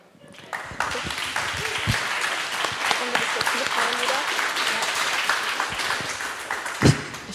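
An audience at a Jugend hackt youth hackathon event in Frankfurt claps steadily and dense applause that starts abruptly and holds at an even level, with a few louder claps near the end.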